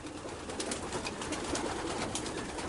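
Racing pigeons at a breeding station, young birds bred this year, cooing and murmuring together in a steady dense chorus with a constant loft background, no clear voices.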